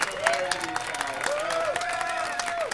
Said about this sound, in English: You deserve a round of applause for that.